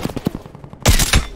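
A sniper-killing gunshot in Call of Duty Black Ops Cold War: a sharp, loud rifle crack with a heavy low punch and a second report close behind, following a quieter stretch of faint combat ambience.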